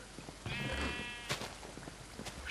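A sheep in the Minecraft video game gives one wavering bleat, faint and mixed with soft background game sounds and small clicks.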